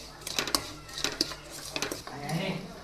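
Semolina (rava) roasting in a kadai for upma, stirred continuously with a metal spoon: a few sharp clinks and scrapes against the pan at irregular intervals over a soft background hiss.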